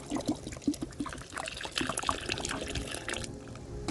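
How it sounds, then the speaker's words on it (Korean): Water poured from a bottle into a compost mix of sesame cake, soil and eggshells, an uneven close splashing trickle with a few knocks, fairly quiet. "그리고 물이 이제 두 병째 또 부어주세요."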